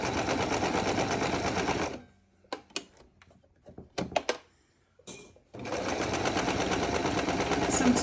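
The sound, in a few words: sewing machine stitching a scrappy quilt table mat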